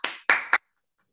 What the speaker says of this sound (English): Give a big round of applause to all the young graduates.